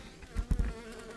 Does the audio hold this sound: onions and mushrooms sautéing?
no